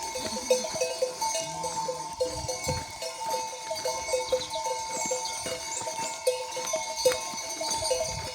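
A mixed flock of sheep and goats, including ewes with lambs and kids, bleating over one another, with cowbells clanking steadily throughout; busy, close, outdoor livestock noise.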